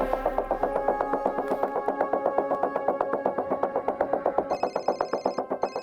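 A telephone rings repeatedly in a steady, rapid bell-like pattern, loud and close, with a brighter electronic tone joining near the end.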